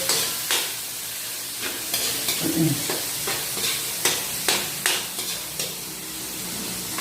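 Tomatoes and ginger sautéing in a pan as aromatics for a mussel dish: a steady sizzle broken by repeated scraping stirs of a utensil against the pan, close and fairly loud, with no talking.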